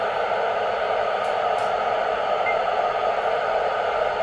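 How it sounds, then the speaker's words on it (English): An amateur radio receiver with its squelch held open gives a steady, even broadband hiss that never lets up, with a few faint brief blips on top. "that is the hissing noise you are hearing."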